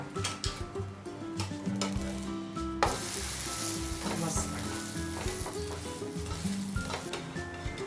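Wheat flour dosa batter sizzles steadily on a hot pan, a close, continuous crackling frying sound with light scraping touches, running alone without talk.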